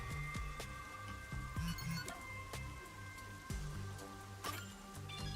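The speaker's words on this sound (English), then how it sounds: "The rain just won't stop, huh?" Rain falls in the video game Master Detective Archives Rain Code, a soft steady patter of drops and splashes mixed with faint chimes and clinks from the game soundtrack, fairly quiet and alone.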